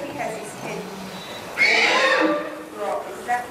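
A horse at an equine demonstration gives one loud, drawn-out whinny midway through, with a person talking softly nearby before and after it.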